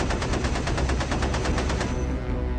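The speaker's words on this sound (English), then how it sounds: "Ace tail gunner Charles Cab prepares his machine gun and fires." Rapid, steady machine gun bursts play as a sound effect for a B-17 tail gunner in a board game session. The loud rhythmic volley runs for about two seconds, then gives way to a lingering roar.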